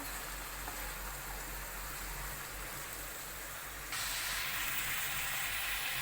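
Shredded cabbage for a cabbage sabji sautéing in a pan gives a steady, close sizzling hiss that grows noticeably louder and brighter partway through, with no talking.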